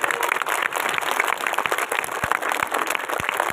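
Audience of students at a school assembly clapping steadily, a continuous patter of many hands with a few sharper claps standing out, moderately loud and without talk.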